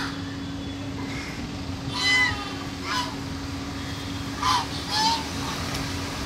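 Hungry white and brown ducks at a lake in Delhi give several short, raspy calls in separate bursts over a steady low hum and background noise, with no one talking.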